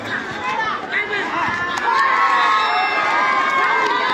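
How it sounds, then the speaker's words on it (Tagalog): Crowd at a Filipino community sports fest at a youth centre in Maadi, Cairo, shouting, cheering and whooping loudly, with children's high-pitched yells, swelling into a sustained roar under nearby chatter. "Ang lakas na sigawan dun ah."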